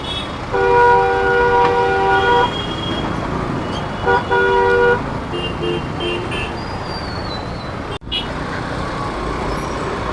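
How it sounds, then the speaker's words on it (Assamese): Heavy traffic jams Saraighat bridge over the Brahmaputra near Guwahati, with a dense steady roar of cars, buses and trucks and several long car horn toots early on, heard from among the vehicles. "চাওক কিমান জাম গাড়ী ভৰ্তি হৈ গৈছে"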